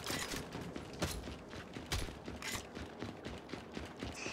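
Gunfire in Gears 5 Horde mode on an arena map, a dense, fairly faint spatter of shots and impacts with a few sharper cracks standing out.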